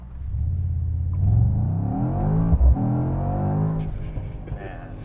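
A 2024 Mercedes-AMG GT63 S 4-Door Coupe accelerates with a deep, rising engine note that climbs steadily over a few seconds, heard from inside the cabin with a brief thump midway.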